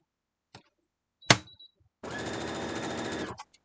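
Sewing machine stitching quilt block pieces: a few isolated clicks and a sharp knock, then a steady close whirring run of stitching for over a second before it stops.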